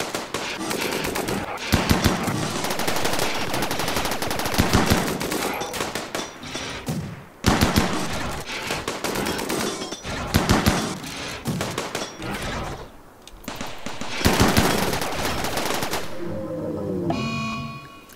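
Gunfire from a film plays loudly, with long bursts of rapid machine-gun fire in repeated waves separated by brief pauses, ending in a quieter stretch with faint tonal sound.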